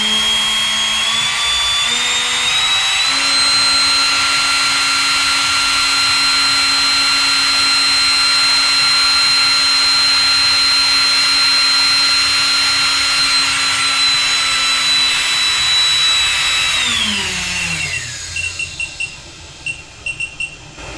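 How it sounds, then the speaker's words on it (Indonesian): The cooling fan of a Digital Ways DWPS3010D-C bench power supply runs under load with a steady, loud whirring whine, then spins down near the end as its pitch drops and the noise fades. "Kalau dia bekerja keras ya, kipas di belakang ini muter, arah anginnya masuk ke dalam."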